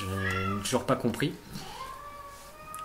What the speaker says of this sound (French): c'est un chat, ne vous inquiétez pas.